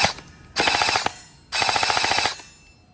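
An LKCJ toy gel blaster, a metal-barrelled replica rifle, fires two rapid full-auto bursts through a chronograph, each a dense rattling string of shots about a second long, close and loud with no talk.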